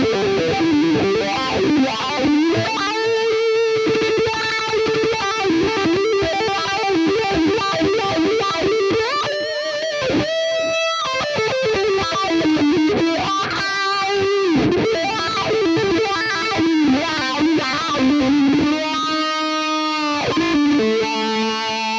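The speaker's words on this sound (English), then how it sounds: "now I have a distortion sound. It's more of a high gain distortion sound" High-gain distorted electric guitar through an Axe-Fx II plays fluid legato lines with sustained notes and quick runs, loud and dry, alone with no talking.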